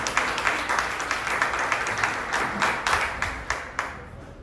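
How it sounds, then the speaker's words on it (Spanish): A church congregation applauding during a worship service, a dense sustained round of clapping with a steady rhythmic pulse of hands beating together, moderately close. "Denme un aplauso al Señor."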